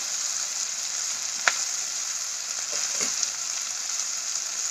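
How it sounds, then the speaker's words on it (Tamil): Okra curry sautés in a pan, a loud, steady, close hiss of frying oil with a couple of faint stirring clicks, continuous and with no talk. "நீங்கள் நல்லா வதக்கிக்கொள்ளுங்க."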